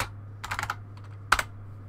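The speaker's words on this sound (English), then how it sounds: "if you, for example, type in gas masks on here" Someone types on a computer keyboard in two short bursts of quick, close key clicks, over a faint steady hum.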